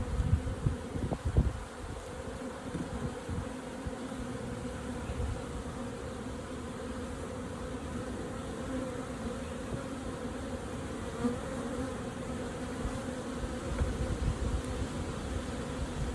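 Bees hum in a steady, dense drone around a large beehive, a continuous close buzz that holds level throughout with a few louder bumps near the start and no voices.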